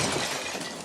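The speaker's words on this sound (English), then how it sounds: "which made Beau break through the glass door in a very funny way." A glass door shatters in the film Beau Is Afraid, a brief loud burst of breaking glass that fills the clip without any speech.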